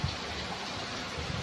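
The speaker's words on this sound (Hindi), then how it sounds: "देखिए कितना तेज बारिश हो रहा है" Heavy rain pours down in a steady, dense hiss, close and continuous, with no voices over it.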